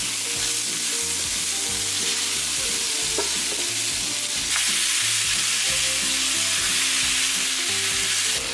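A Tex-Mex mixture seasoned with chili and cumin sizzles loudly in a frying pan, a steady hiss with irregular scraping stirs, growing slightly louder partway through.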